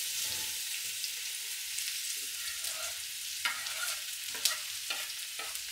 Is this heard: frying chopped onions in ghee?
yes